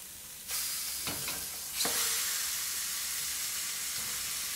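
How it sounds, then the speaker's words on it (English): Thick bacon rashers sizzle on the flat plates of a Rutland grill, a steady loud frying hiss that begins abruptly and swells as more strips land, with a few soft clicks. "On the other side you'd have the flat plates and you'd be putting in your bacon."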